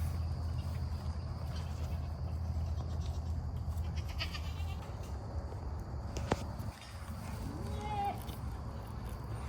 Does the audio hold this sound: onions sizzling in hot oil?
no